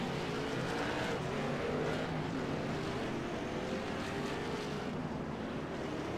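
A pack of race cars rumbles behind a pace car at an all-star racing event at Hickory, a steady, loud engine drone without a break.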